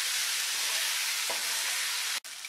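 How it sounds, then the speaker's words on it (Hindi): Roasted soybeans are stirred into masala Maggi noodles frying in a pan, under a loud, dense, continuous sizzling hiss that cuts out for an instant near the end. "और अब मैं इसमें डालूंगी भुने हुए सोयाबीन और अब हम इसे अच्छे से मिक्स कर देते हैं।"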